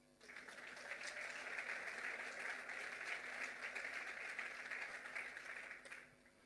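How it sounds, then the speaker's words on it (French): An audience at a CFE-CGC union gathering at Airbus applauds, a steady, moderately loud roll of clapping that rises quickly, holds, then fades near the end. "Et ça, je pense que ça peut s'applaudir."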